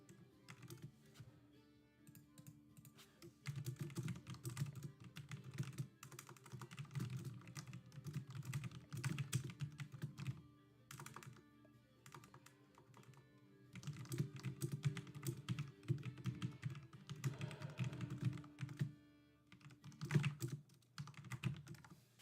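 Computer keyboard keys clatter in dense rapid bursts, pausing briefly between runs of typing, close and clear with no talking.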